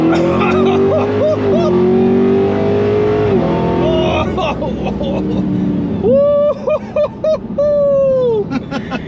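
A cammed Dodge Demon 170 engine revs loud and close, climbing in pitch through the gears with a rough, choppy idle-like lope between pulls and sharp bursts near the end. Excited voices shout over it.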